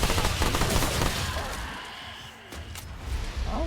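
Rapid SMG gunfire rattles in the Remnant 2 video game. Dense bursts of shots, with a brief lull, sound loud and close, and a faint voice is present.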